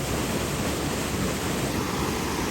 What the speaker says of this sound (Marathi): इथं धबधबा आहे